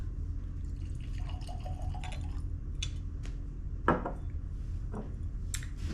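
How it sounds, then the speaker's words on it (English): Bourbon of 129.7 proof pours from a freshly opened bottle into a glass, with close liquid trickling and dripping, light glass clinks and a sharp tap midway, all fairly quiet and without talk. "So let's pop it open and give it a pour"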